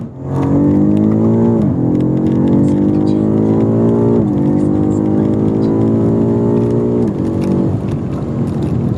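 A 2020 BMW M5 Competition (F90), 617 hp, revs hard and climbs in pitch, dropping briefly at each of three quick gear shifts, loud and close throughout.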